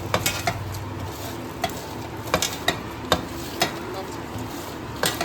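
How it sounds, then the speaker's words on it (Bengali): Prawns being mixed by hand with turmeric and salt for a prawn malai curry, a steady soft wet stirring with irregular light clinks of utensils against a bowl. "হলুদ, নুন এইসব দিয়ে একটু"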